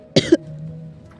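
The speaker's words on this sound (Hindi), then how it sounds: "मुझे थोड़ी खांसी आ गई थी।" A person coughs twice in quick succession, close and abrupt, followed by a quiet low hum.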